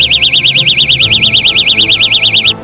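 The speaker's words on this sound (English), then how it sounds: "a burglar alarm that makes a loud noise to scare off an" The burglar alarm on a car escape multi-tool blares a loud, piercing warbling siren, rising and falling rapidly and evenly for over two seconds before cutting off abruptly.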